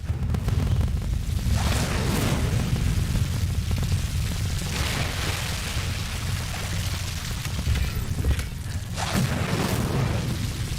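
A fire spell cast in Hogwarts Legacy gameplay: repeated deep whooshing bursts of flame swelling and fading every few seconds over a continuous loud rumbling background.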